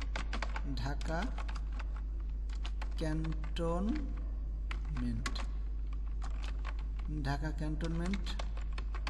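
Computer keyboard keys clatter in quick bursts of typing while someone speaks steadily over them, setting up an address layout for a rubber seal design, with a constant low hum running underneath.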